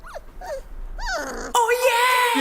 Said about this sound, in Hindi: दिव्या लड़की नहीं है सर, वो मेरी फीमेल डॉग है।